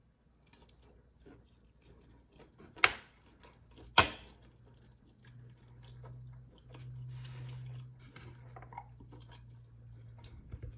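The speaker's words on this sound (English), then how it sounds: "I'm chewing so much because" Quiet, close mouth sounds of chewing a T-bone steak with mushroom, onion and bell pepper: soft wet squishes with two sharp biting clicks partway through, and no talking.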